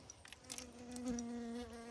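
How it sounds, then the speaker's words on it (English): A honeybee buzzes near someone cooking ketchup in a kitchen, a steady, faint drone that swells slightly and holds for over a second, preceded by a few soft clicks and no voices. "I have one bee buzzing about. What kind of bee are you? Little honeybee."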